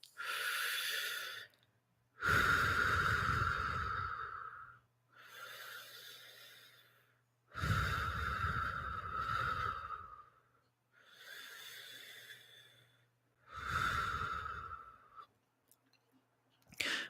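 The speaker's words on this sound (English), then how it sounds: "I'd like you guys to just close your eyes and take 3 deep breaths" Three slow, deep breaths, each a long airy inhale and exhale separated by short pauses, close and fairly soft, with a faint low hum underneath and no talking.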